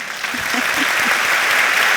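Audience applause at the Montevideo International Book Fair during an Isabel Allende event: steady, dense clapping from a large crowd throughout, with faint voices rising briefly beneath it.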